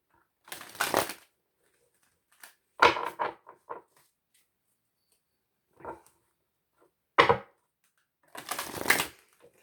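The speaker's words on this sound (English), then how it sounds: "But I will just give this a good little shuffle." Tarot cards being shuffled by hand in several separate bursts of riffling and sliding, each a second or so long with quiet pauses between, close and fairly soft.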